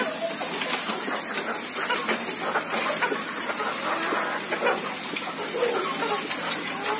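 A continuous hissing spray runs close by with small fluctuations over piled chicken manure, while chickens cluck faintly in the background.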